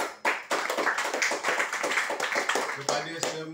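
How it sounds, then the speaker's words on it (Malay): At a weekly company meeting, an audience gives a teacher a round of thunderous applause, dense and continuous, with a voice heard over the clapping. "tepukan gemuruh untuk beliau"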